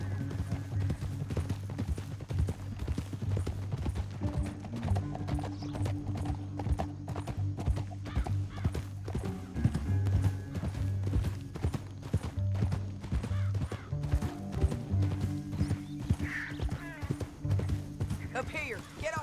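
Horse hooves clip-clop steadily while riding in the Western video game Red Dead Redemption 2, with occasional whinnies, a low music bed and game characters talking over the steady rhythm throughout.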